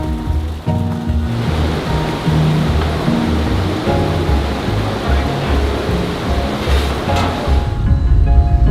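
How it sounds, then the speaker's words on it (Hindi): Rushing mountain river water on the Karakoram road: a steady, loud, broadband roar runs throughout, with music-like tones layered faintly over it. "ये ब्यूटीफुल पानी।"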